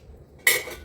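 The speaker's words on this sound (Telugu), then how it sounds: "బాగా స్క్రబ్ చేయాలన్నమాట." A dosa pan is scrubbed after cooking: after near silence, a sudden metallic scrape with a bright ring starts loud and close, then continues as a rough, fading rasp for under half a second.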